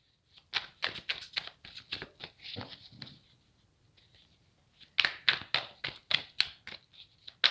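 Tarot cards being shuffled in two bursts of quick, crisp riffling flutters, close and fairly quiet, with a short pause between the runs.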